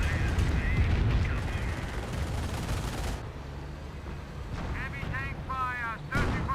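Rocket artillery fire from Calliope launchers in the Company of Heroes strategy game, a dense rumbling barrage of blasts for the first few seconds, then quieter battle noise with sporadic bursts, while a voice talks over the top.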